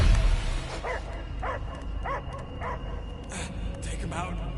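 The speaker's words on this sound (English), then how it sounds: "I hear only barking." A dog barks and yips in a rhythmic series of short calls, five or six in a row, over a constant background rumble and hum, with voices blending in.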